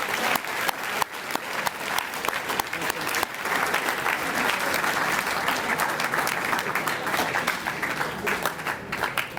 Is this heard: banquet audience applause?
yes